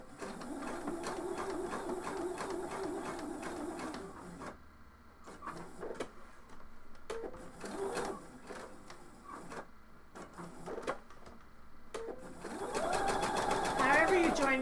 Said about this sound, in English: I'm going to put it under my sewing machine. And I'm just going to sew the elastic in a circle.